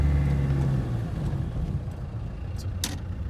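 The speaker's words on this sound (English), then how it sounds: "You can tell you're driving a diesel in this car" Steady low diesel engine drone heard from inside the cabin of a 1995 Land Rover Defender 130, a constant rumble with road noise and no talking.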